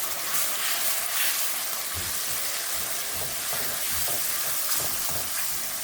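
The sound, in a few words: frying spice paste with turmeric and salt for fish curry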